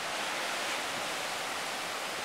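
Ocean surf at Shell Beach on California's Central Coast at sunset, a broad, continuous wash of breaking waves and hissing foam, steady and fairly loud with no distinct individual breaks and no voices.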